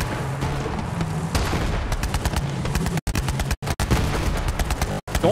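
Rapid bursts of enemy gunfire from the video game Borderlands 3, dense and continuous with sharp cracks and a few abrupt cutouts, loud and close.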